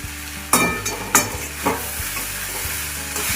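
Drumstick flowers are stir-fried into a chorchori in a pan, cooked down until dry, with steady sizzling and several sharp spatula scrapes and knocks against the metal.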